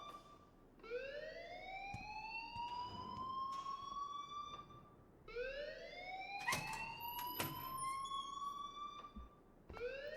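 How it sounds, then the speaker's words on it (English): A school alarm in the video game Life Is Strange wails in rising electronic sweeps, two long upward glides with sharp clicks and beeps scattered between them, alone and fairly quiet. "please turn off that alarm since that's your job"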